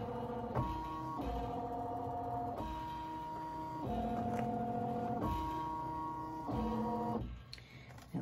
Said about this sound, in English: we are going to just go ahead and start stitching out our design